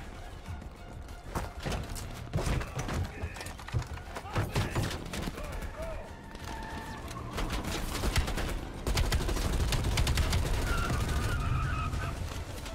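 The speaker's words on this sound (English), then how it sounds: "Okay, lots of explosions going on." Dense bursts of gunfire and booming explosions from Call of Duty: Black Ops Cold War crackle continuously, growing heavier toward the end, with faint voices mixed into the noisy battle.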